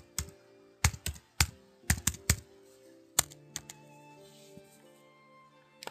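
Someone types a folder name on a computer keyboard: a short, quiet run of irregular keystroke clicks, some in quick clusters, with no other sound.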